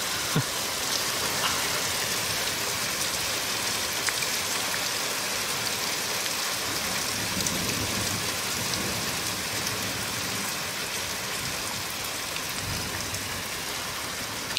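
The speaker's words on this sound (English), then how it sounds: "And here's the heaviest rain." Heavy rain pours down steadily during a UK summer thunderstorm, a dense, hissing roar like applause that stays loud and even throughout, with no voices.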